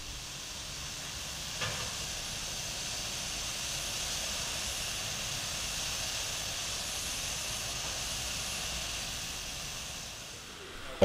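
A steady, broad hiss of steam from standing steam locomotives fills the air continuously, with a low rumble beneath and a brief knock near the start.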